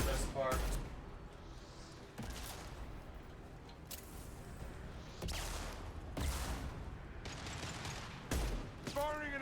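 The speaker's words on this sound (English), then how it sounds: "Firing an impact shot." Impact shot gunfire in Mass Effect 2, several sharp heavy blasts spaced a couple of seconds apart amid ongoing combat noise, with voices in between.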